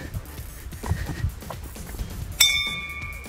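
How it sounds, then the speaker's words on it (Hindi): A single bright metallic temple bell strike rings out after some footsteps and background bustle, its clear tone lingering and slowly decaying. "घंटी बजाइए"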